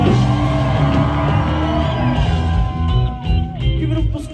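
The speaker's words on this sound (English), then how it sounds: "Make some noise if you're happy to be alive tonight." A live concert crowd at a Colorado Springs club keeps up a loud, continuous roar of cheering, whoops and yells, with no break through the whole stretch.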